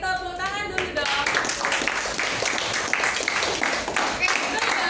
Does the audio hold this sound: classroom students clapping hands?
yes